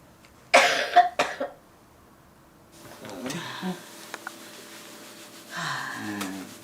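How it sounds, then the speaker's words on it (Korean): A woman coughs sharply a few times close by, followed by quieter breathing and some faint talking. "오늘 또 기침 소리가 심상치 않습니다."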